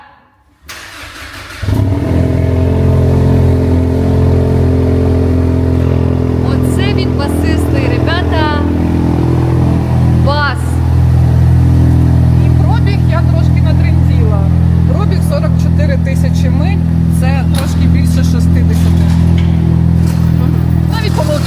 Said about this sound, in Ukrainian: я покажу вам вихлоп